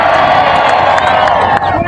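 A large crowd cheers, whoops and claps continuously at a Mitt Romney campaign rally in Pueblo, loud and dense with scattered shouts and a few voices rising above the roar.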